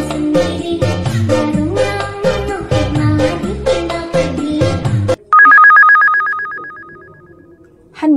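A telephone rings in a clear electronic tone after music cuts out, a sustained repeating ring that fades slightly before the music returns at the end.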